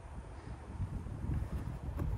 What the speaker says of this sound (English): It's a pretty big wind.